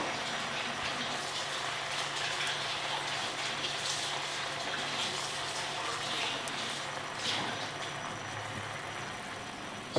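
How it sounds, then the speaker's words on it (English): Coconut-based Thai green curry simmering gently in a pan over low heat gives a steady, soft bubbling and sizzling hiss that runs evenly throughout at low volume, with no voices. "So you're going to leave that to simmer away now"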